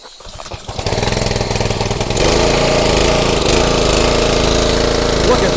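A gas pressure washer engine with the choke on catches after a ripcord pull, sputtering briefly before roaring into a loud, steady, close-up run that holds at full volume.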